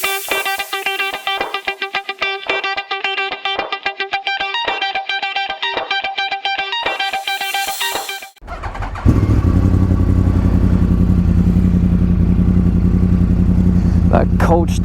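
A 2013 Yamaha R1 cranks with a rapid, rhythmic starter whir, then catches in a sudden loud roar and settles into a strong, steady close-up cold-start idle.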